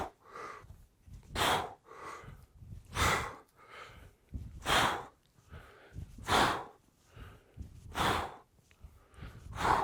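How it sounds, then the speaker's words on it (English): Heavy rhythmic breathing during kettlebell swings, each sharp exhale and gasp coming about every one and a half seconds, loud and close with no talking. "Good breathing behind the brace."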